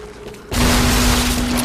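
In the Tomb Raider video game, an arrow strikes a bell and a door collapses: after a brief quiet moment, a sudden loud boom bursts out and rolls into a sustained rumbling crash with a ringing tone underneath.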